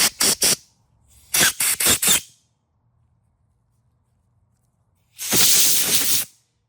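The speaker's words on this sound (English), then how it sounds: "So I'm going to take these two items over to the air compressor. We'll clean these off." Bursts of compressed air from an air compressor nozzle blow out small carburetor parts from a Briggs 675EXi engine: several short loud hissing blasts in quick succession, a cluster of four more, then one longer sustained blast, with quiet gaps between.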